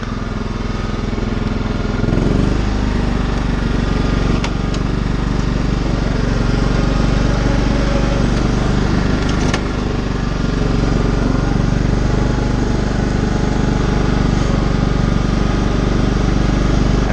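A John Deere lawn tractor engine running steadily while being driven, a loud continuous low drone close by that holds almost unchanged from start to end, with a couple of faint knocks.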